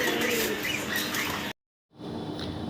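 Racer pigeons give soft coos inside a loft. The short, close calls are broken by a moment of silence partway through.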